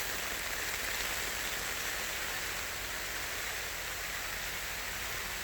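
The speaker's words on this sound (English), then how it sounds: "Pelting down with rain." Heavy rain pelting down on a tent while camping at Glastonbury, a dense, steady hiss of drops with no talk, close and continuous.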